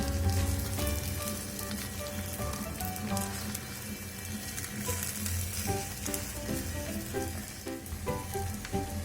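An egg roll sizzles steadily in a hot pan as it is rolled, a dense crackling fry with occasional soft scrapes and taps from the utensil.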